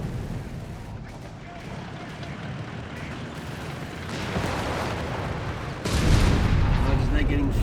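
Artillery shells pound a base in the Company of Heroes 3 strategy game, a dense continuous rumble of blasts and gunfire that swells louder toward the end, with a voice talking over it.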